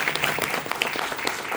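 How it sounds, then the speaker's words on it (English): A conference audience at a Women in Agile keynote in Prague gives a round of applause, dense continuous clapping from many hands filling the short span. "I'm sure everybody would just like a round of applause to say well done for such a great job."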